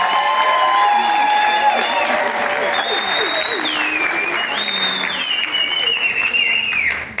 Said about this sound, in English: Can we clap again for our sponsors?